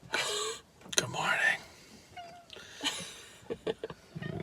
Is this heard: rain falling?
no